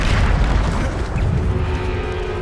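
A Bombarda spell explosion in Hogwarts Legacy: a heavy, close, loud boom with a rumbling low body that holds for the whole moment and slowly fades.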